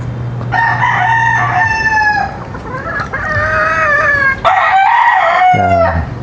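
A Boston-line gamefowl rooster crows loudly and close by, giving several long drawn-out calls in a row with short gaps between them, clear and alone without talk.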